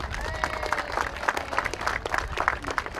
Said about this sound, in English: A round of applause for Amy.